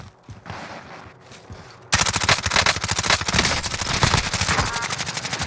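Sustained automatic gunfire in Call of Duty: Warzone bursts in loudly after quieter game ambience with faint voices, then rattles on as a dense rapid stream of shots close to the listener.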